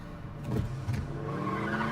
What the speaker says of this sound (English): He's going to slam the brakes on